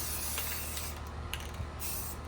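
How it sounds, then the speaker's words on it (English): Paint sprays onto an artwork in bursts of hissing mist. Short pauses separate them, and a few soft mechanical clicks can be heard between sprays, close and moderately loud. "I'm not even sure if I should spray this one, but apparently I'm gonna."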